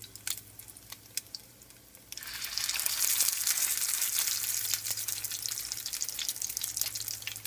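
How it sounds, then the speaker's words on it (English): Salmon patties sizzle steadily in a frying pan, the hiss jumping up after about two seconds and holding as a loud, continuous crackle with scattered pops, alone with no talk. "just let them fry till they're golden brown on each side"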